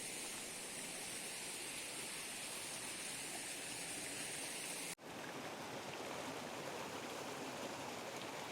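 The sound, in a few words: mountain stream flowing through a channel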